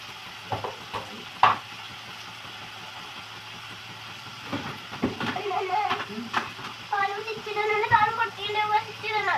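Onions and chicken sauté together in a pan for a Kerala-style chicken curry, with intermittent spoon scrapes and stirring over a low sizzle while a person talks throughout.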